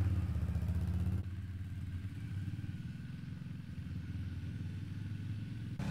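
An ATV engine running steadily while the quad descends a hill, a continuous loud low rumble with a rough mechanical clatter; the tone shifts slightly after the first second as the rider controls speed on the engine and gradual braking.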